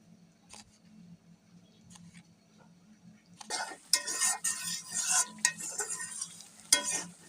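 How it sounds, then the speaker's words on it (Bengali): Spice masala for a winter-vegetable khichdi is stir-fried with a little water, first quiet with a few light clinks, then bursting into loud crackling sizzle and scraping stirs that continue to the end. "মশলাটা খুব ভালোভাবে কষিয়ে নেব"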